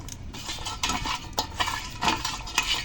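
Large, roe-filled koi fish are mixed with spices by hand in a bowl, giving close, wet squishing and rubbing sounds in uneven pulses with occasional light knocks against the dish.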